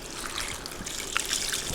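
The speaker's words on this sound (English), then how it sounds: "Hot tap water." Hot tap water runs in a steady hissing stream into a kitchen container while enchiladas are being prepared, close and continuous with faint splashy spikes, with no talking.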